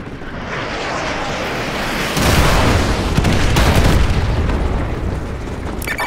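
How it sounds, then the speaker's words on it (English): Artillery barrage in Call of Duty: Modern Warfare 2 Remastered, heard as a constant roar of heavy booms and rumbling explosions that swells louder about two seconds in and stays loud, with no talking. "Call in artillery on those vehicles."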